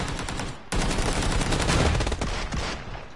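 Sustained automatic gunfire in the battle royale game PUBG, a loud dense rattle of rapid shots filling the whole stretch without pause, with no talk over it.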